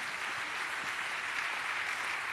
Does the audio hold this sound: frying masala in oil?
no